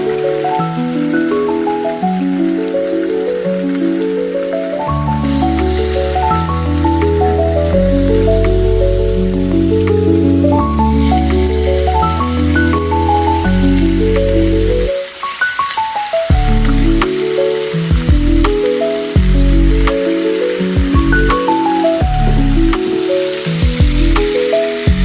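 Beef steak strips sizzle in a pan for a rice bowl, a continuous crackling hiss partly masked by loud melodic background music throughout.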